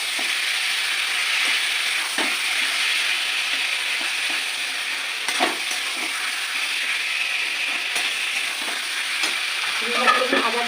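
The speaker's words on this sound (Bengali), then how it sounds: "আলু দিয়ে দিয়ে আবার আমি নেড়ে ফেলি" Potatoes and jackfruit fry and are stirred in oil in a pan, a steady close sizzle running throughout with occasional scraping clicks of the spoon against the pan.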